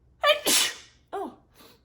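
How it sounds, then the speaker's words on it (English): One person sneezes in a close, dry room: a sharp double burst of breath and sneeze, then a quieter short sniff or gasp after a pause. "Do I gotta sneeze again?"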